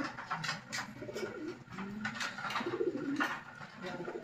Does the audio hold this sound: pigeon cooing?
yes